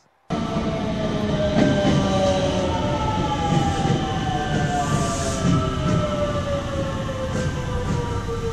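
A train pulls into a Japanese railway station on a cold day: a steady, loud rumble of rolling cars, with long descending squealing brake tones across the whole stretch and no voices.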